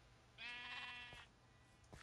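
A sheep gives one clear bleat, moderately close, with a couple of faint thumps afterward against quiet surroundings.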